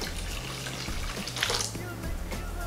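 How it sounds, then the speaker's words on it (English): Water pours steadily into a ceramic soup pan already holding carrot juice for lentil soup, a continuous splashing rush with a low background hum. "I've filled the pan with the water and the carrot juice"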